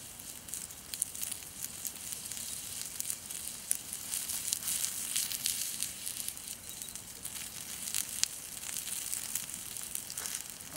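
Outdoor campfire crackling on a frosty winter evening, a dense, steady stream of sharp pops and snaps at close range with no voices.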